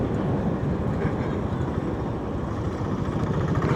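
A train draws near a lowered rail crossing gate at Kalukhali, a steady low rumble and roar that holds loud and constant throughout.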